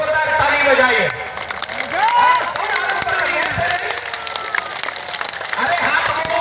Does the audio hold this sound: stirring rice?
no